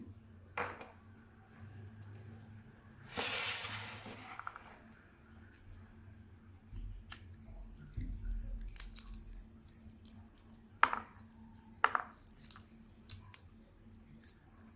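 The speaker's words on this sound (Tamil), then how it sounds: "இப்போ இந்த பட்டாணி விதைகளெல்லாம் எடுத்தாச்சு." Fresh green peas are shelled by hand in a quiet kitchen, with faint sporadic snaps, squishes and crackles of pods splitting, including a couple of sharper clicks near the end.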